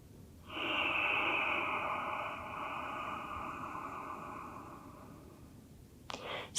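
One long, slow, deep breath during a yoga stretch, close and soft, drawn out for several seconds before a brief rustle at the end.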